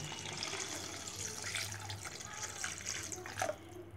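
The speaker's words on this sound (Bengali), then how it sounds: "এবার পরিমাণ মতো পানি দিয়ে দিব।" Water poured into a cooking pan while making Bangladeshi ilish fish curry, a steady splashing, trickling stream close by, growing briefly louder near the end, with no talk over it.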